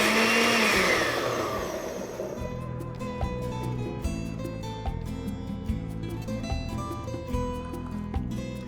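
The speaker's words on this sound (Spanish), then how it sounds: "vamos a poner el vaso en la licuadora" Kitchen blender whirring loudly as it purees tomatoes and habanero chili for a salsa, starting with a roaring burst then settling into a lower churning grind with rhythmic knocks.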